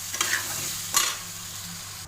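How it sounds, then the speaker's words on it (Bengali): Potatoes frying with salt and turmeric, a steady low sizzle with a couple of short stirring scrapes near the start and around one second. "নুন একটু হলুদ দিয়ে আলুগুলো একটু ভাজা করবে"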